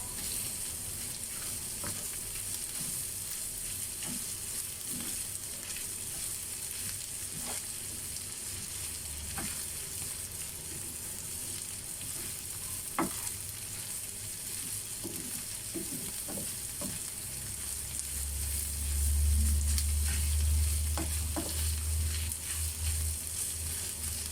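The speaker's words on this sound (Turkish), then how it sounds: "bir yemek kaşığı da salça koyacağım. Onları güzelce kavuracağız şöyle." A spoonful of tomato paste sizzles and fries in a pan while being stirred, a steady close crackle with occasional scraping, and a low rumble swells near the end.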